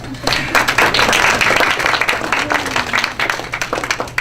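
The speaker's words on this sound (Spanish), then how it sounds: "Y por eso le vamos a dar otro aplauso." Applause breaks out at a conference on Germany in the European Union, a full hall clapping loudly and steadily after a brief quiet start, with a faint voice beneath.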